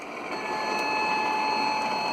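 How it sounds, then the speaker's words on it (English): A steady mechanical whir with high whining tones from a Märklin model construction train running continuously on its track, close by and unbroken. "here comes the work train. Here comes that construction train"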